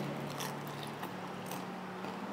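Crunchy bites into crispy pata, a deep-fried pork leg, with crisp crackling chews repeating at a steady pace, close and moderately loud against a constant background hum.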